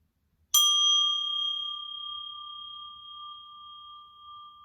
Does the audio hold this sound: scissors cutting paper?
no